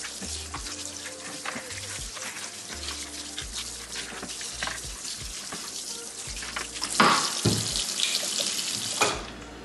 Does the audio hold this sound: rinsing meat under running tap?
yes